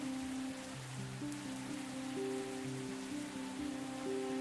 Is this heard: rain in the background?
yes